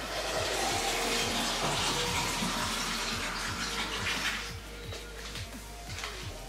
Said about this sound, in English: so it does suck up the water